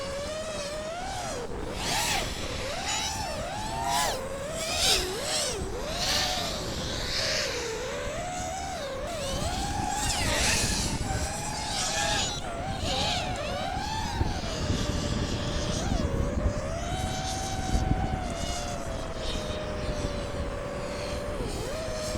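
A small FPV drone flies with a high, whining motor buzz that rises and falls in pitch as the throttle changes, sustained and fairly close for the whole stretch.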